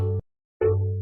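A heavy bass riot sample from Heavy Bass Design Volume 3, run through a spectral gate plugin that isolates the fundamental, plays as two loud, sustained low tones split by a brief silence.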